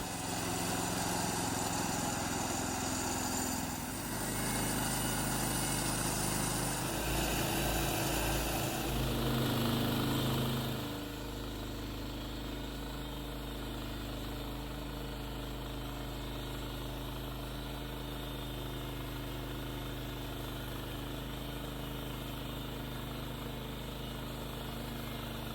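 The engine of a portable sawmill runs close by as timber is milled into lumber. Its drone is loud and strained for the first ten seconds, then settles into a quieter, steady idle for the rest.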